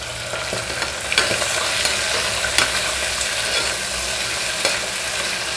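Ginger garlic paste and onion pieces fry in oil on a medium flame for bagara rice, a steady, close sizzle with occasional stirring scrapes and clicks throughout.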